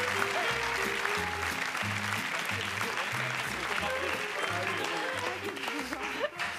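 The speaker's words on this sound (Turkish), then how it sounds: "Evet, alkışlıyoruz." Studio audience applause on the Turkish game show Çarkıfelek, continuous and fairly loud clapping from a crowd with music playing underneath and a voice speaking over it.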